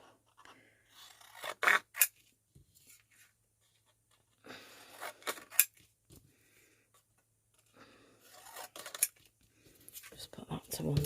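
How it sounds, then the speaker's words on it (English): Scissors make close, crisp snips and slicing scrapes through papercraft card backgrounds in three separate bursts, with quiet pauses between and soft talk in places. "in fact I'm just going to cut them all"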